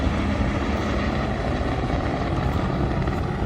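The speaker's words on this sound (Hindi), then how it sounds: "सामने हेलीकॉप्टर जा रहा है हेलीपैड से।" Helicopter at the Kedarnath helipad, its rotor and engine roaring steadily and loudly close by as it departs, a dense unbroken wash of noise with no talk.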